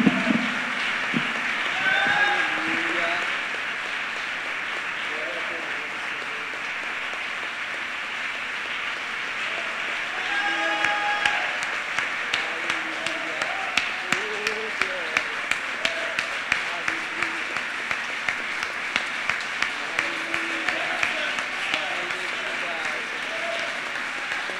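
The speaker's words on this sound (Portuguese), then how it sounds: "Você pode aplaudir ao Senhor, irmão." A church congregation applauding during a worship service, a long continuous patter of clapping under a voice, settling into a steady rhythmic beat in the second half.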